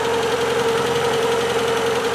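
A Peugeot 205 Turbo engine idles steadily after a turbo replacement, warmed up and running smoothly, with a constant close hum and a faint ticking, uninterrupted and with no talk.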